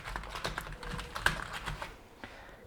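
Fingers tap steadily on a computer keyboard, a quiet run of close, clicky keystrokes with uneven rhythm and one slightly harder press, fading out toward the end, with no voices.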